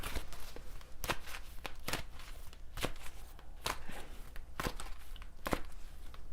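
Playing cards are shuffled over and over, sharp riffling bursts repeating roughly every second against a quiet background.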